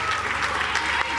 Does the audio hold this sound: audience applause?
yes